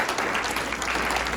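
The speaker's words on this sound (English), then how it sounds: "let's give another round of applause for Dr." An audience at an economics lecture event applauds steadily, a thick, uniform wash of clapping that stays loud and even for the whole short span.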